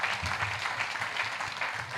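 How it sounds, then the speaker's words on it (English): A town hall audience on peace and national cohesion claps steadily for Madam President, a brief even burst of many hands at moderate volume. "I'll clap for Madam President again."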